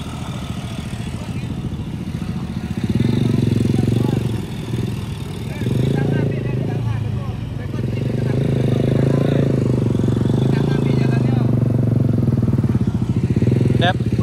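A motorcycle engine strains up the steep, slippery Bukit Gandum hill on the Pessel–Solok road, a loud close drone that swells and surges as the throttle opens, with brief dips between pulls.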